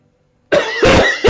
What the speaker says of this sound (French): je vais vraiment tousser.